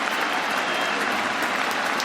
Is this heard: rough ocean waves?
no